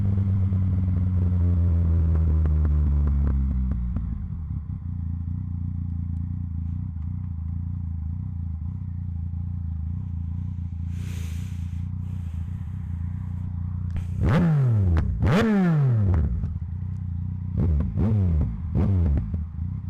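A Yamaha MT09SP motorcycle with a loud Blackwidow exhaust idles with a deep, steady rumble, then gives several sharp, rising revs near the end, close and loud.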